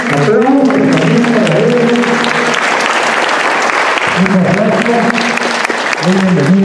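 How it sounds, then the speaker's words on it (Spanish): Steady, loud applause from a seated crowd of parents and guests at a rural school ceremony in Peru, continuous clapping with a voice speaking over it. "Aplausos también para ellos."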